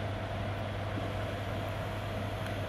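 Commercial electric fan running near an Arduino wind-speed meter setup, a steady broadband whoosh with a low motor hum, constant and moderately quiet, with no other sounds.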